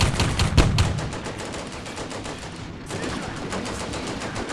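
Gunfire in the Combat Mission Barbarossa to Berlin wargame: rapid rattling machine-gun bursts, loud and close at first, then a short pause before another sustained stream of rapid shots.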